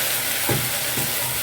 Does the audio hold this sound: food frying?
yes